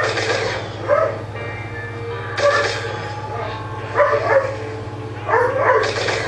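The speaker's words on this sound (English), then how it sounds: "It's my stepfather playing with the dogs." Several dogs bark in loud, sharp bursts while being played with, mixed with yips and whimpers, over a constant low electrical hum.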